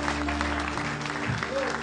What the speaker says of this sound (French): Acclame pour l'Esprit de Dieu